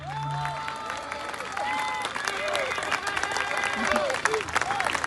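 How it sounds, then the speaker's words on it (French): Audience applause at a Les Patriotes political rally, a sustained crowd clapping with some cheering and voices mixed in, fairly loud and continuous throughout. "Je vous prie de lui faire un tonnerre d'applaudissements."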